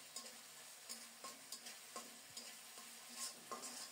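Masala spices being stirred and fried in oil, a steady sizzle with regular scraping strokes of a spoon roughly every half second, close and moderately loud, no voices.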